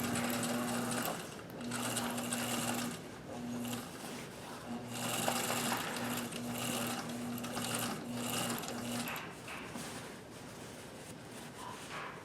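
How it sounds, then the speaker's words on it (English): A sewing machine stitches over thick jeans seams, its needle running in a steady close mechanical whir with brief pauses and restarts, gradually quieting toward the end. "Really thick seams to sew over for a brief moment here, so we will feed it over these."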